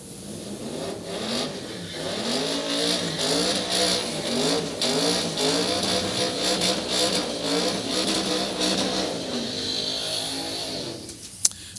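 A Mustang and a turbocharged Malibu drag race at Orlando Speed World, with engines roaring and revving in a sustained, fluctuating drone heard from a distance, ending in a sharp pop.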